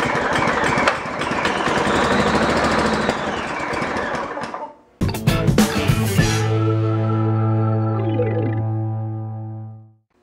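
A Scotts 6.5 hp self-propelled lawn mower engine roars loudly and steadily up close, cuts out briefly, then catches again into a strong droning hum before shutting off and fading to silence.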